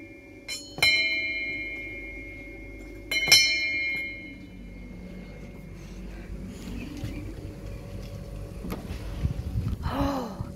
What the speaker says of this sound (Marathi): बेल वाजव पहिला